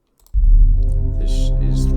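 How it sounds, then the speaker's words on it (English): Five Nights at Freddy's main menu audio from the video game begins abruptly after a short silence, a loud, sustained dark droning tone with layered static-like hiss swelling at the top. "This is the sound of the FNAF main menu."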